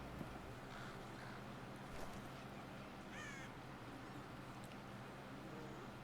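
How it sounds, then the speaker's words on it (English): A crow caws a few times over steady wind and a low rumble in The Walking Dead video game, Michonne chapter; the calls are faint, distant and brief, with no talk. "Okay. Bird."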